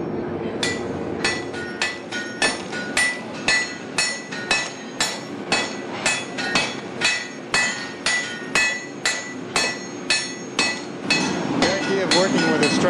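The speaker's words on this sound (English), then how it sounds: "when the hammer hits, that it comes back off the anvil." A hammer strikes wrought iron on an anvil at a blacksmith's forge, ringing loudly in a steady rhythm of about two dozen sharp metallic blows, each one bouncing briefly off the anvil.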